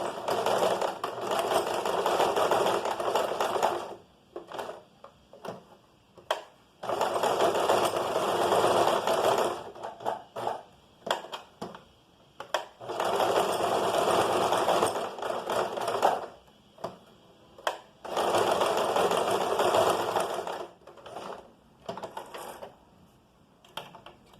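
A sewing machine stitches a seam in fabric, running in four long steady bursts of rapid mechanical whirring, separated by short pauses with small clicks and handling noises.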